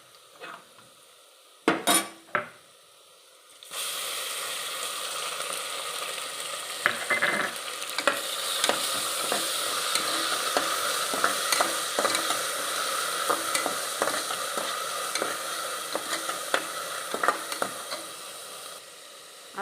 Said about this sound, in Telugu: అల్లం వెల్లుల్లి పేస్ట్ పచ్చివాసన పోయే వరకు వేపుకోవాలి